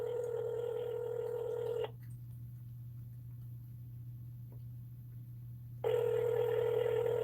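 An outgoing phone call rings back through a handset: a steady ringback tone, a long pause with low hum, then the tone returns, clear and close.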